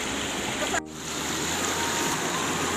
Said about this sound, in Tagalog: Napakaganda ng falls. Grabe, linaw ng tubig.